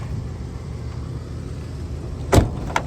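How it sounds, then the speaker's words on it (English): The back door of a 1987 Cadillac Brougham thuds shut once, close by, over a steady low engine rumble, followed by a faint lighter click. "Door closes nicely, back door."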